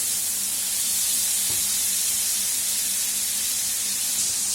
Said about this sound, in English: So we're going to fry this a bit